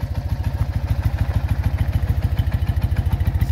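Vintage motorcycle engine idling steadily in a loud, close, rhythmic low thumping beat with a mechanical clatter on top, running alone without voices.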